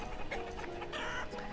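Chickens in the city-building game Banished, a few short clucks over a soft rural ambient background, quiet and close.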